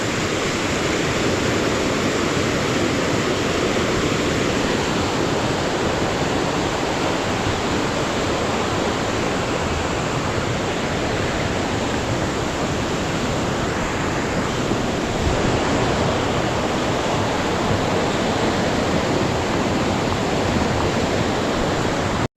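Floodwater rushing down a swollen river fed by heavy rain from Mount Banahaw, a loud, steady, unbroken roar of turbulent water close by, with no voices over it.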